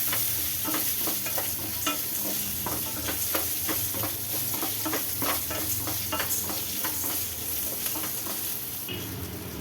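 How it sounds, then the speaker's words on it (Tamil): Small onions, garlic and tamarind sauté in a hot pan with steady sizzling and frying, punctuated by frequent scraping stirs of a spatula, close and continuous throughout with no talk. "இப்போ இதையும் சேர்த்து நல்லா வதக்கலாம்."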